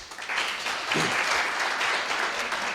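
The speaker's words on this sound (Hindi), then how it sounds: "फिर भी ताली बजा दो आप" Audience applause at a talk on active and passive income, starting after a brief quiet moment and continuing as steady, dense clapping throughout, with a faint voice briefly under it.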